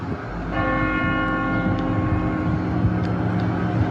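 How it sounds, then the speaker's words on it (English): A loud bell rings in Lawrence, Massachusetts, with sustained, ringing tones and a couple of fresh strikes, humming on over a low rumble of traffic. "The bell is ringing."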